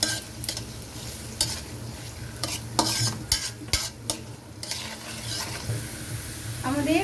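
Potatoes and carrots stir-fried together in a pan for vegetable chow mein, a steady sizzle with repeated scraping and clanking of a spatula against the pan.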